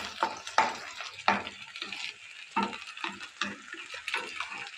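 A spoon stirs soy sauce and chili sauce in a hot pan, giving irregular scraping clacks over a soft sizzle, close and fairly quiet, with no talk.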